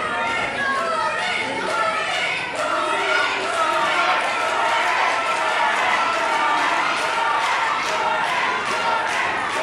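A wrestling crowd at an indie show fills the hall with loud, continuous chatter and cheering, a dense wall of voices with scattered shouts throughout.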